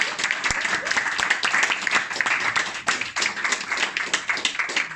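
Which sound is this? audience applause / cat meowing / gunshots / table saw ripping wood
audience applause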